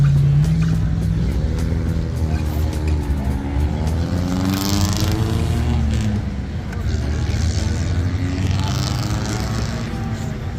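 A McLaren 720S sports car at a car meet, with loud engine noise rising and falling close by in a continuous, rumbling stretch, with people talking faintly under it.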